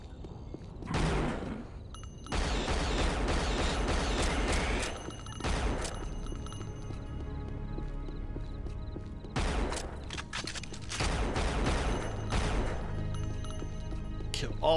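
Gunfire in the Unreal video game as a player shoots at sharks in water, loud bursts of rapid shots in several long volleys separated by brief quieter gaps.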